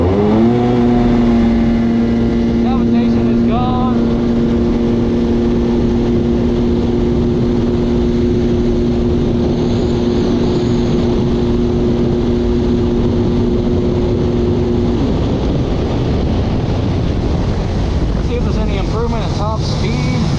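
A Yamaha GP1200R jet ski engine roars at top speed, a loud sustained drone with a steady tone, heavy wind buffeting and water rush throughout, and a brief shift in pitch near the end.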